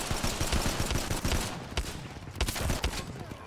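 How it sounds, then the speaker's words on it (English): Gunfire in the Apex Legends video game, a dense burst of rapid automatic shots followed by scattered shots and impacts, loud and close. "I shot my mate in the face."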